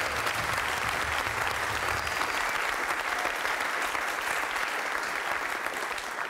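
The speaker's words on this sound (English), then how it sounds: "can we give them another round of applause?" Audience applause for the Hancock Fellows rhythm section at a jazz education workshop, dense continuous clapping from a crowd, steady and sustained throughout.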